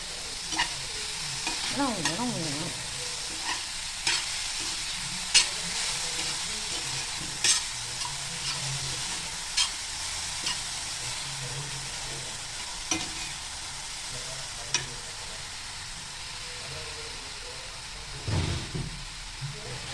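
Vegetable momo filling, salted, gets stirred in a hot pan: a continuous sizzle punctuated by regular spatula scrapes and taps against the metal, close and steady.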